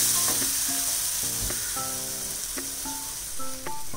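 A besan mixture roasts in oil over a medium flame, its steady sizzling hiss running under sustained tonal notes that come and go, with no speech.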